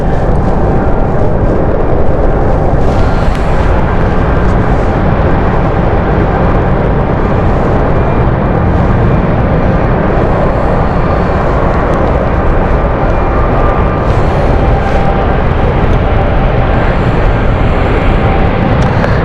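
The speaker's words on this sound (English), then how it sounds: "Dublin flight next from British Airways City Flyer inbound here" A British Airways CityFlyer jet inbound from Dublin at London City Airport, a loud, sustained broadband engine roar with no break.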